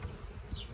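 Honey bees hum in a dense, continuous drone at a hive, loud and close throughout the brief moment.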